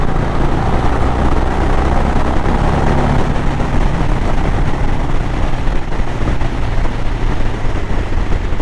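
Harley-Davidson Sportster 1200 motorcycle exhaust rumbling loudly and continuously at close range, a dense, steady engine roar with no talk.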